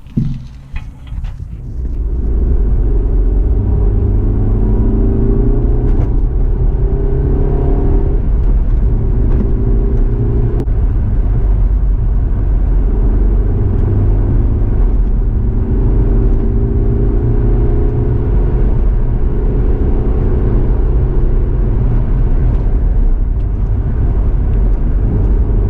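A car with newly fitted top mounts and suspension drives along the road, its engine and tyre rumble a loud, steady whir from inside the cabin, with gear-change shifts in tone and no talking.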